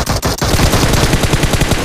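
Gunfire from the PUBG Mobile game comes as a loud, dense burst of rapid shots that runs nearly continuously and closely spaced throughout, with only brief dips near the start.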